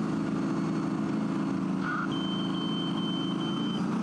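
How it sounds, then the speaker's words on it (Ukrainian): Electronic alarm from a tank's laser combat-training system sounds as a steady high-pitched tone lasting nearly two seconds, preceded by a brief lower beep, over the constant rumble of the tank's idling engine. "Так звучить система сигналізації, коли по танку влучає промінь машини супротивника."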